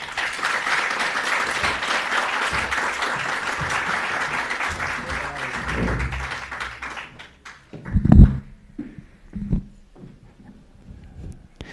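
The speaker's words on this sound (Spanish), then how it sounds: "recibanlo con un fuerte aplauso" An audience at a university information-technology lecture gives a speaker sustained applause that thins and fades after about seven seconds, leaving a few scattered claps, thumps and murmurs.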